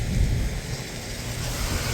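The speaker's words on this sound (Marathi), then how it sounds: "पावसाचा भरपूर त्रास आहे." Steady, heavy rain hisses close by with a low, rolling rumble of thunder beneath it, during monsoon travel toward a ghat pass; no voices.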